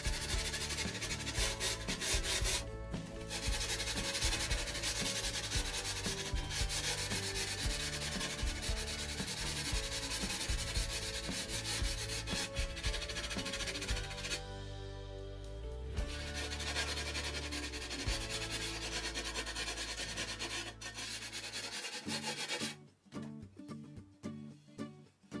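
A grater working the sharp edges of a glass sheet, producing a continuous loud abrasive rubbing and grinding that runs steadily, briefly softens midway, then stops near the end.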